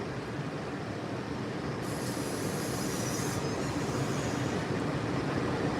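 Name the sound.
Walt Disney World monorail train running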